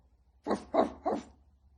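A human voice imitates a dog barking, three quick woof-like barks in a row, close and fairly quiet against a silent background.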